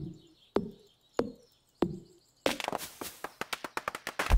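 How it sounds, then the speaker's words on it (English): An axe chops a tree in Stardew Valley: three spaced, hollow chopping thuds, then a burst of crashing as the tree falls, followed by a quick run of rattling knocks. "I'm going to go ahead and cut down one more tree."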